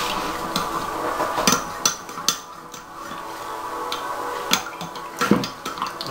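Ciabatta bread dough being mixed with fresh yeast and lukewarm water, giving intermittent clinks and scrapes of a utensil against a bowl, with irregular sharp knocks over a quiet kitchen background.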